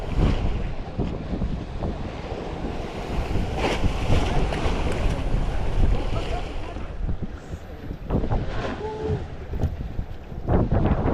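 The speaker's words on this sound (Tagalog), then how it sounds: "biglang lumakas yung hangin" Strong wind roars and buffets the microphone out at sea on the Pacific, over rushing water and surf, steady and loud throughout, with faint voices occasionally breaking through.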